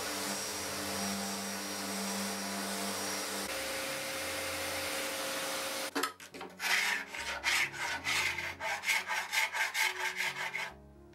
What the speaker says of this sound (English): All I needed to do on this piece was to give it a good scuff sand